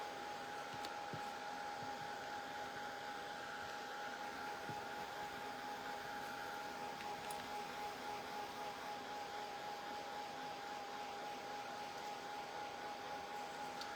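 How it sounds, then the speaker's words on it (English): Hair dryer blowing steadily to dry wet tissue paper, a constant close whooshing airflow with an even hum that runs unbroken throughout without talk. "They could hit the switch to turn the dryer on and off."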